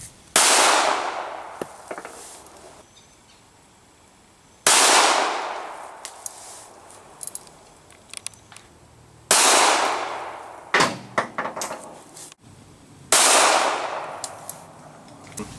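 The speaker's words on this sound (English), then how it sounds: "first shots we're going to be doing today with this Kel-Tec 380" Four sharp, loud pistol shots from a Kel-Tec .380 firing Hornady Critical Defense 90-grain FTX rounds, spaced a few seconds apart outdoors, each with a ringing decay and small clinks between them.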